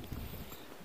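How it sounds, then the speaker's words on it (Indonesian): A horse being led toward Bromo through the mountain village of Jemplang near Malang clip-clops along the road, its hooves steady and fairly close under broad outdoor rumble. "Bapak membawa kuda ke Bromo."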